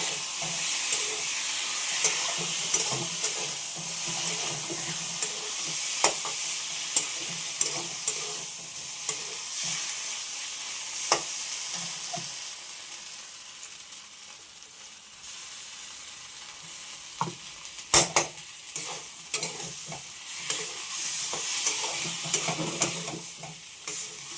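Pointed gourd frying with a bay leaf and a paste of mustard, poppy seed and coconut, a steady close sizzle broken by frequent scraping stirs and a few sharp clacks of the spoon against the pan.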